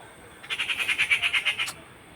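Kanakkan kuruvi bird calling in a rapid run of about a dozen short, evenly spaced squawking notes lasting just over a second, fairly close and alone against quiet background.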